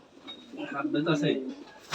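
Rajshahi Giribaz pigeons coo at a pigeon farm, a short, close, throaty rolling coo over low background noise.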